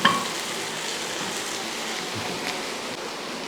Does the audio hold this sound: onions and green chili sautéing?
yes